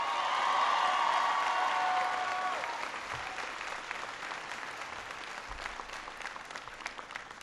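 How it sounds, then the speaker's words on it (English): A crowd of students at a summer afternoon speech in Nevada applauds an introduction, steady clapping that starts strong and slowly thins and fades, heard from some distance. "give George a big round of applause"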